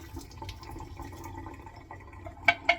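Water emptied from a slim, flat stainless steel water bottle after a vinegar soak, a soft close trickle and drip ending in two sharper splashes near the end, with no voices.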